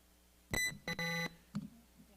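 Electronic buzzer at a quiz scholarship competition: a sharp tone, then a short blip and a longer sustained buzz, followed by a faint short beep, all in a quiet room.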